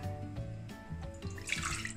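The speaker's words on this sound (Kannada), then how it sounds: "ಅಂಚೆ ಒಂಜಿ ರೆಡ್ ಲೋಟ ದಾತ ನೀರು ಪಾಡಿದ್ರ" Water poured from a red cup into a pot on a gas stove for cooking amla into a gooseberry leha, a steady liquid splash and trickle heard close and alone for about two seconds.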